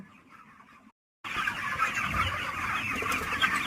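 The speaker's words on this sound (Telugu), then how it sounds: "కోళ్ళు అయితే ఎలా ఉన్నాయో చూడండి" A flock of chickens clucks and murmurs close by; after a brief silent gap the clucking resumes, busier and more continuous.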